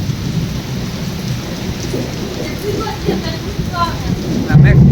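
Heavy rain pours down steadily in a thunderstorm, a low rumbling roar throughout, growing louder at the very end; a voice speaks faintly underneath.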